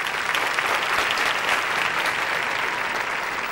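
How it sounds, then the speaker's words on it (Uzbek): A comedy show audience breaks into sustained applause, a dense steady wash of many hands clapping at once with no voices on top. "Xolida Aliyeva, qarsak chalib qo'yinglar"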